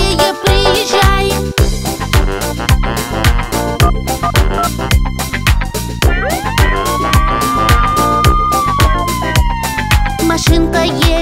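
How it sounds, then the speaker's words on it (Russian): A wailing fire engine siren rises and falls over a bouncy children's song with a steady beat, loud and up front throughout. "Пожарная машинка, поскорее приезжай."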